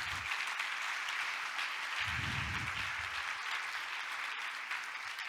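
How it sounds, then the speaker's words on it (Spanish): Church congregation applauding during a sermon, a steady broad wash of clapping that fills the whole stretch at an even level. "Dele un aplauso al Señor con todo su corazón."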